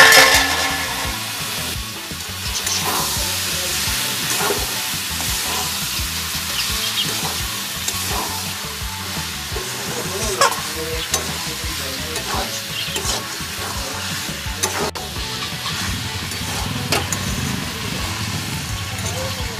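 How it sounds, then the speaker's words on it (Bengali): Fried vegetables, jackfruit seeds and elephant-foot yam stalks, tossed into cooked spice masala, with a continuous sizzle of frying and repeated spatula stirring against the pan over a low background hum. "এবার আমি ভেজে রাখা সবজিগুলো দিয়ে দেবো।"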